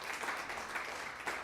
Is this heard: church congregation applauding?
yes